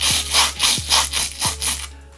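Hard plastic brush scrubbing a sneaker in quick back-and-forth strokes, about six loud bristly rasps in a steady rhythm, close up, with no talking.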